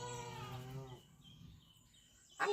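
Goat on a farm giving a long, loud, wavering bleat, then quiet, with a brief shorter cry at the end.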